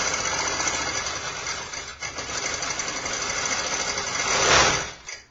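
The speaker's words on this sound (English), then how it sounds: "I'm going to sew all the way across." A sewing machine stitches steadily across quilt binding, its motor humming and rattling continuously for about five seconds, briefly swelling louder near the end before stopping.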